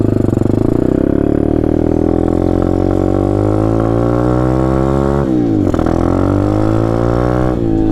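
Taotao DB17 125 pit bike engine pulling away as the clutch engages, a loud, close single-cylinder drone that climbs in pitch through a long rev, dips briefly at a shift, then rises again.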